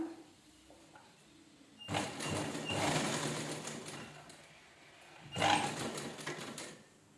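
A sewing machine runs in two bursts, stitching along folded fabric for a square-neck blouse, with a short quiet pause between the runs of steady mechanical whirring up close.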